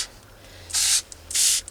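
Two sharp hissing bursts from a pump sprayer, each lasting about a quarter second, separated by a brief pause, close to the microphone.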